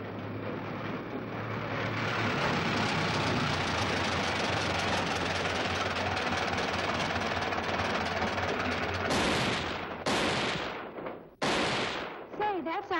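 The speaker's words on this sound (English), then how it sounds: "Say, that sounded like gunshots." Gunfire crackles on a busy film studio lot where a cowboy picture is being shot: a long dense roar of noise builds and holds, then breaks into several sharp, loud separate bursts near the end.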